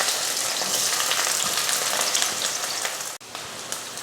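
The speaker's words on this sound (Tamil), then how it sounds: "இதில் வெங்காயம் சேர்த்துக்கலாம்." Onion hitting hot oil in a kadai, a loud, dense, close sizzle that holds steady for about three seconds, then cuts briefly and resumes, with no voices.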